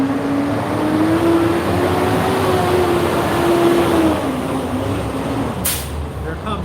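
A food service truck rolls in with a steady engine drone and a wavering whine, and a short hiss like an air brake comes near the end. Background noise stays constant throughout.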